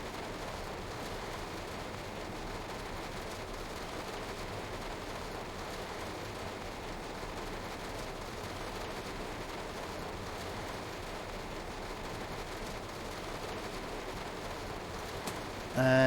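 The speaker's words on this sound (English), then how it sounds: "And the rain just sounds so soothing as well." Rain falls steadily in the video game Train Sim World 2 on the Bakerloo Line, a soft, even hiss that continues unbroken throughout.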